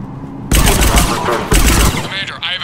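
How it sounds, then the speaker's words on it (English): Heavy Cerberus cannon fire in Mass Effect 3 booms loud and near in two dense, sustained bursts, with a voice speaking over the tail. "The cannon fire is clearing the way."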